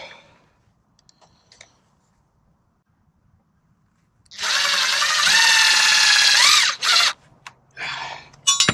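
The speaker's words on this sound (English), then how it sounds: "Can't use these gloves with the drill because it winds all up inside there." A handheld power drill whines loudly for about two seconds during work on a sawmill foundation, then gives a couple of short bursts and clicks, with quiet handling noise before it.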